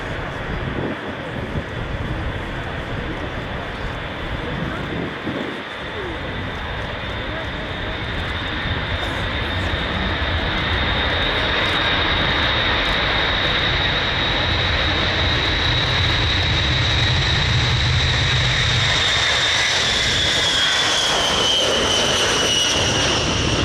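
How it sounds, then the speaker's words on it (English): A US Air Force Boeing B-52H Stratofortress rolls for takeoff at an airshow at RIAT 2023, trailing smoke. Its engines give a loud, continuous jet roar with a rising whine that holds steady throughout. "rolling now with the traditional cloud of smoke following it. The US Air Force Boeing B-52H Stratofortress."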